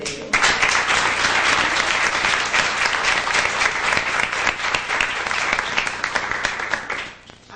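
A crowd at a church worship service claps steadily and loudly for several seconds, a dense, sustained round of applause that fades out near the end.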